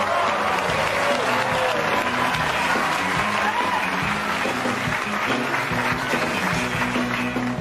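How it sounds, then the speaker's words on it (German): Studio audience applauds and cheers for racing legend Al Unser on a sitcom set, a dense, loud, sustained clatter of clapping with a few whoops mixed in, steady throughout. "Applaus für die Rennfahrerlegende Al Unser."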